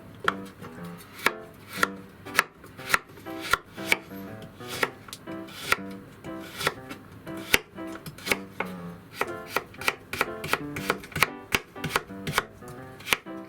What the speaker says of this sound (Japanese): で人参は3分の1、こちら千切りにします。